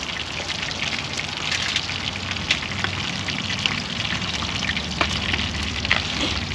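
A couple of red snapper frying crispy in hot oil, a steady, dense sizzle with scattered sharp pops and crackles, close and continuous.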